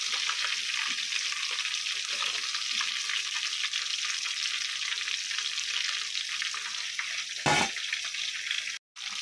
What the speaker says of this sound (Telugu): హై ఫ్లేమ్లోనే వేయించుకోవాలి ఇవి, అప్పుడే బాగా వేగుతాయి ఇవి.